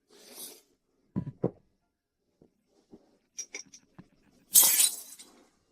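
Plate smashing at a wedding ceremony, with a few scattered clinks and knocks before one loud, bright crash of breaking crockery that scatters and fades, heard without speech.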